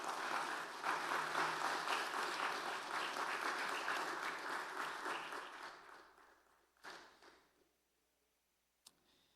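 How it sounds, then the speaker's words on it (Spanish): Church congregation applauding after a sermon, a dense sustained clapping that fades out over about seven seconds, followed by near silence with a single sharp tap. "Dale un aplauso al Señor."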